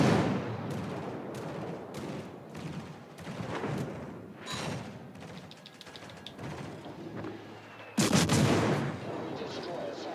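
Naval gunfire in a warship video game: repeated booming cannon salvos and impacts rumble throughout, with a louder, sharper burst of shots near the end.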